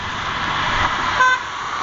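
A car horn sounds in a short, clear toot over steady roadside traffic noise, with no talking.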